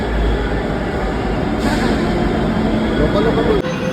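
A metro train rumbles at a station platform: steady, loud low-frequency rolling noise fills the whole stretch, with a brief screech partway through and a sharp break near the end, suggesting arrival and braking.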